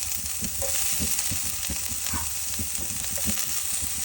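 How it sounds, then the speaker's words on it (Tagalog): Onions frying in coconut oil with garlic and ginger make a steady, close hiss, punctuated by regular scraping strokes of a spatula against the pan. "hintayin nating maluto ang sibuyas mismo para mag-brown"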